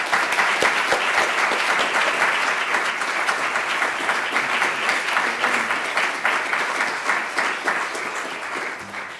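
A seated audience claps steadily and warmly as Dr. Juan Olivarez is welcomed to the stage for a talk. The applause stays loud and even throughout and fades slightly at the close.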